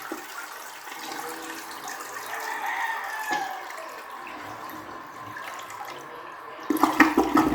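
A toilet flushes after its button is held down in a long press, a steady rush of water running for several seconds and then ending in louder gurgling splashes as the tank empties.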